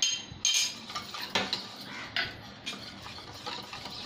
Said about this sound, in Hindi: अच्छी तरह मिक्स करना है, थोड़ा भी इसमें लम्स ना रहे, इस तरीके से इसे मिक्स करना है